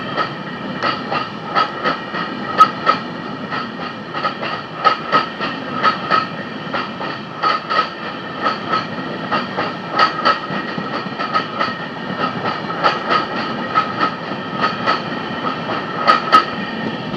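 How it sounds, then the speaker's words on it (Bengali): The Padatik Express, a Sealdah to New Jalpaiguri night train, pulls out of Samsi station with a loud, steady clickety-clack of wheels over rail joints and a constant rumbling hiss throughout. "আর 6টাতেই হর্ন দিল, ছেড়ে দিল ট্রেন শামসি থেকে।"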